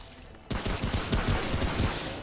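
Sudden burst of rapid gunfire in the video game Remnant from the Ashes, a quiet lead-in followed by loud, closely spaced shots rattling on for nearly two seconds.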